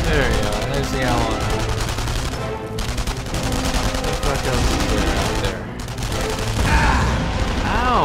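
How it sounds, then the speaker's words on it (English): Gunfire and rocket blasts in the World War II shooter game Enemy Front, dense continuous bursts of shots and explosions filling the whole span with little letup. "what the fuck is shooting like rockets and shit at me?"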